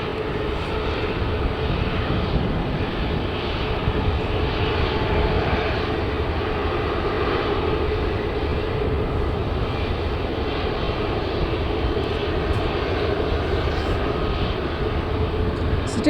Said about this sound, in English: now let's have a bit more A350 action